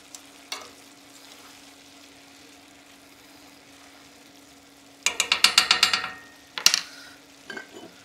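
Minced meat fried in a pan and stirred, giving a faint steady sizzle with a steady hum for the first five seconds, then a burst of rapid scraping, clattering stir strokes near the end.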